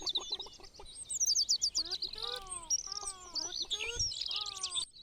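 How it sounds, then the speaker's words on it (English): Loud bird chirps and tweets in quick repeated bursts, with whistling rising and falling calls layered densely throughout, heard as background sound in a Kerbal Space Program game. "Ah yes, the sweet sound of incredibly loud birds."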